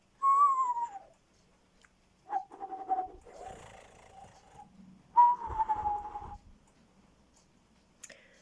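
An owl in a Florida suburban neighborhood at night gives a series of high, whining, descending calls, several drawn-out cries separated by pauses, moderately close against faint background noise.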